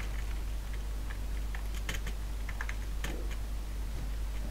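Rapid, uneven keystrokes clatter on a computer keyboard during an online King Legacy gaming session, close and continuous over a steady low hum.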